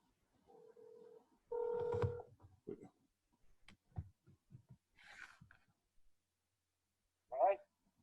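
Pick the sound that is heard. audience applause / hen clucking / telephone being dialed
telephone being dialed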